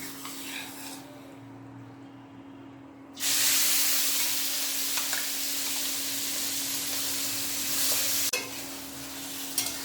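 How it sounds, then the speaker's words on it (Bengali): Marinated mutton hits a hot wok with bay leaf and dried chilli and is stirred, a loud, steady frying sizzle that bursts in after a quieter opening, with occasional scrapes and a low steady hum underneath. "ম্যারিনেট করা মাংসগুলো আমি কড়াইয়ের মধ্যে দিয়ে দিয়েছি। এবার আমি ভালোভাবে এটা একটু কষাবো।"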